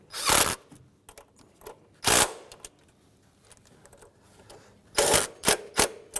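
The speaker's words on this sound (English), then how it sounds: "Now you can use your tool with a 12mm socket, tighten them up." A hand ratchet with a 12mm socket tightens throttle body bolts on a 2007-2013 Mitsubishi Outlander engine, giving short bursts of sharp clicking separated by quiet pauses, close and alone.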